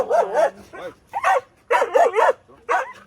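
A dog barks close by in quick bursts, several sharp barks and yips in a row with short pauses between.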